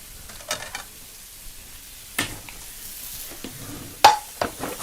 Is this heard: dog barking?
no